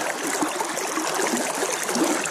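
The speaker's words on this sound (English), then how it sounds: "Pretty cool creek right here, guys." A clear Oklahoma creek flows nearby, a steady bright rushing and gurgling of water with no talking over it.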